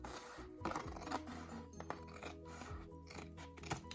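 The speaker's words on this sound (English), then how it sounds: "I'm going to cut along the template" Scissors snip through a glitter sheet along a template, a run of quiet crisp cuts and rustling with faint scraping and handling, low in level.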